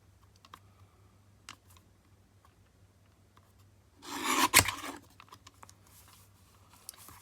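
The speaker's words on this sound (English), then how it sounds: "trimming them as close as possible." Paper pages trimmed for a handmade mug-shaped journaling notebook, a quiet run of faint scattered snips and taps, then one louder rasping cut with a sharp snap in the middle, close and without talk.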